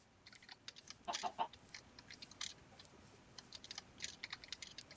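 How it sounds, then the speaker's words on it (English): Minecraft chickens cluck faintly in scattered short bursts during survival gameplay, with soft clicking and tapping sounds in between. "I hear more chickens"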